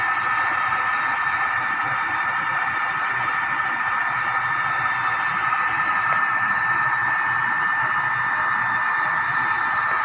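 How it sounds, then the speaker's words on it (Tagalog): A mini blower runs on a cooking stove fueled by used frying oil, a constant loud airy whoosh with a steady high whine, unbroken for the whole stretch. "Meron itong mini blower mga idol."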